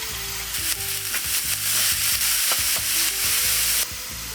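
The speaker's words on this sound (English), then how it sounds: "we're going to go in with our lean ground beef and start cooking it in the pan" Lean ground beef browning in a lightly oiled pan gives a loud, steady, close sizzle, with repeated scraping and stirring knocks and no talking.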